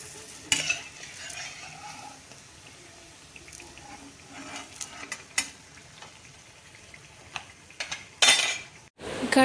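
Assamese-style bhedailota leaf pakoras frying in a pan, a steady soft sizzle with occasional metal scrapes and clinks of a utensil stirring, ending in a louder clatter near the close.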